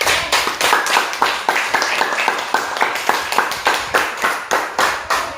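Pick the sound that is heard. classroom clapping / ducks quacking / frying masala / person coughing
classroom clapping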